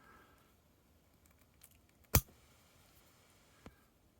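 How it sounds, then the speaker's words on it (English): A pair of clippers snips through a small plastic part in one sharp, loud click, followed later by a fainter second snap against a quiet background. "if I cut this with a pair of clippers"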